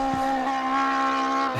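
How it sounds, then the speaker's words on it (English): A racing car in a video game doing donuts on grass, its engine holding a steady high drone while the tyres skid, with a brief scrape near the end. "That's Diggleton racing car putting in some donuts there."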